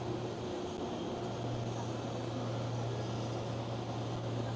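A KLM Cityhopper Embraer E195-E2 jet at Amsterdam Schiphol gives off a faint, steady distant engine hum with a low droning tone, heard alone without talk.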